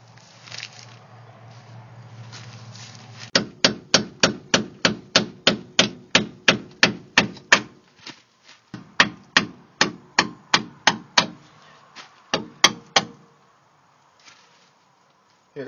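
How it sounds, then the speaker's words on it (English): Hammer striking a flathead screwdriver to pry off a differential cover: a long run of sharp, evenly spaced metallic taps, loud and close, in two bursts with a brief pause and a few final strikes. "I've got a screwdriver, flathead screwdriver, hammer, in case I need it,"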